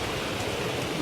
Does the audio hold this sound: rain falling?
yes